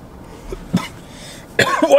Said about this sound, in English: I notice with the coughs, it's definitely more of a clean cough.